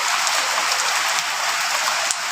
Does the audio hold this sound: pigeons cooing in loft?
no